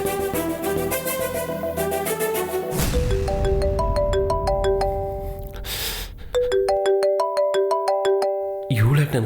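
An electronic ringtone melody plays in repeated bright tonal phrases, loud and close, pausing briefly before starting again.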